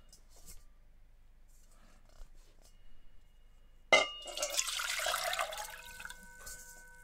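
Water stirred and agitated inside a Bihar singing bowl, a sudden splashing onset followed by a steady bubbling, churning wash with a faint ringing hum, close and moderately loud after a quiet start.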